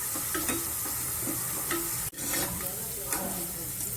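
Sliced onions fry in oil in a pan for chicken biryani while being stirred, a steady close sizzle with scraping stirs and one brief pause, no talk.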